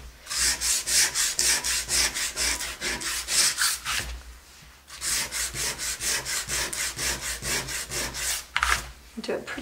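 Paint being sanded on wood while finishing a stenciled faux wood wine cask lazy Susan: loud, rhythmic back-and-forth rasping strokes, a brief quieter pause partway, then steady scraping resumes, with no talk.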